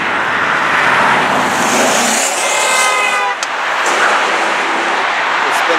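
Car spinning its tires in second gear at a car meet in an emptying parking lot, a loud engine roar with a rising rev sweep in the middle, up close, with a voice briefly over it.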